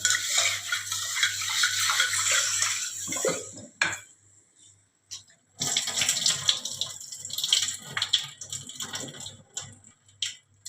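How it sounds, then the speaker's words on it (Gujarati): Water runs from a tap over dried mung beans in a pressure cooker, a close, splashing rush that cuts out briefly midway and then resumes with clinks of the vessel. "આપણે પાણી વડે ધોઈ નાખીશું"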